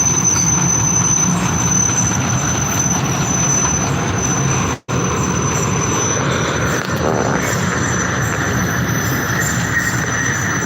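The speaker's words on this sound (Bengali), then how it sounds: "ট্রেন জার্নি খুবই" A train rolls steadily along its rails on a journey, producing loud continuous wheel rumble and a high metallic squeal, with a brief dropout midway and no one talking.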